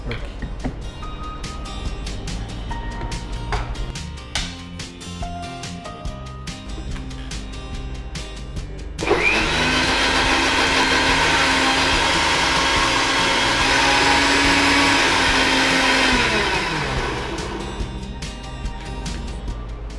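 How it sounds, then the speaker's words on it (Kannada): A mixer grinder whirs steadily while blending a chipped milkshake, starting abruptly partway through, running loudly for several seconds, then winding down, with kitchen clatter and talk before it. "ಈಗ ಇದನ್ನು ಇನ್ನು ಸ್ವಲ್ಪ ಮಿಕ್ಸಿ ಮಾಡಿ."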